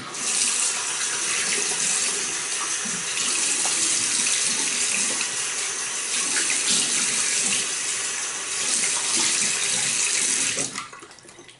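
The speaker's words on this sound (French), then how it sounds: "je vais me rincer la figure" Running tap water pouring steadily into a sink while a man rinses his face after a traditional shave, loud and close, continuous with small splashing changes, stopping abruptly near the end.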